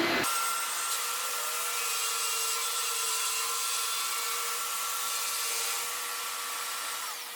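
A Flatmaster drum sander working a wooden board, giving a loud, steady, close whine and rushing abrasive hiss that holds constant from start to finish.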